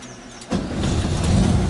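Volkswagen Kombi van engine starting to pull away, a rough low rumble that rises suddenly after a brief quiet moment and holds steady and close for the short remainder.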